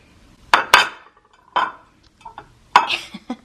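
Anchor Hocking kitchen glassware clinks and knocks as it is handled in a cupboard, with several sharp, close chinks in irregular bursts and quiet gaps between them.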